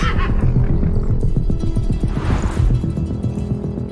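A horse whinnies in the video game Blue Estate, a loud close neigh over rhythmic hoof clip-clop and a steady game background hum.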